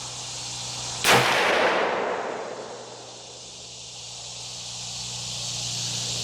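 A single sharp rifle shot from a freshly cleaned Winchester cracks loudly, then trails off in a long rolling echo over a quiet background hum.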